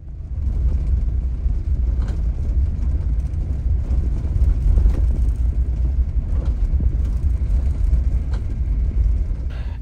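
A Budiman bus running from Tasik toward Solo drives along the road, giving a loud, continuous low engine and road rumble that holds steady throughout, with no voices.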